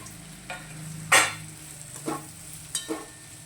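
Leftover roti pieces are stirred in a pan with spices to make chevdo, a few distinct scraping stir strokes over a soft steady frying sizzle, close and without speech.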